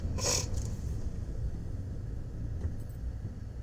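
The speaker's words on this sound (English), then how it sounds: "I got a car coming at me" A car on a narrow one-lane mountain road rumbles steadily and close by, a low engine and tire drone that holds for several seconds, with a brief bright rattle near the start and no talking.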